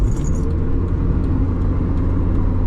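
Steady low engine rumble and road noise from inside a Mazda MX5 rear-wheel-drive roadster while driving on a road, continuous and fairly loud with no talking.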